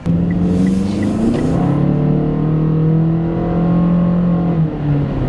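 A 2018 Mitsubishi Outlander all-wheel drive SUV with a CVT transmission accelerates, its engine drone rising steadily in a single continuous tone, loud and close for the whole stretch.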